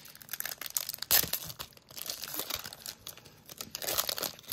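Crinkly tearing and crumpling of a foil baseball card pack wrapper being ripped open, a sharp rip near the start followed by continuous close rustling and crackling for several seconds.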